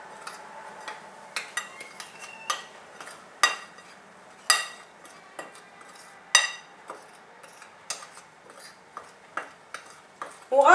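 A spoon stirs powdered sugar with half a spoonful of cinnamon in a bowl, making irregular close clinks and taps against the side with soft scraping in between, no speech.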